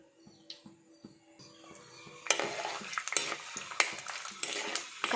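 Dried red chillies fry in oil for kara kuzhambu. A quiet start with light clinks of utensils gives way after two seconds to a loud, dense crackling sizzle that lasts to the end.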